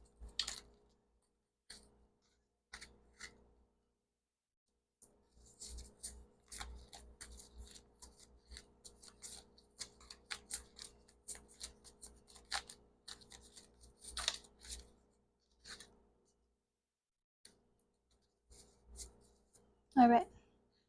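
Tarot cards shuffled loosely and a little messily, giving a run of soft, papery riffling and rubbing bursts, fairly quiet and close, with brief pauses between rounds and a sharper scrape near the end.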